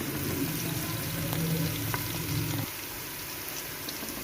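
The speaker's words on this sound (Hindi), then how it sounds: "ये लहसुन अदरक जो है ना इसमें अच्छी तरह से फ्राई हो गया" Garlic and ginger sizzle in a hot pan, a close steady frying crackle that drops off abruptly partway through, leaving a quieter hiss with a few small pops.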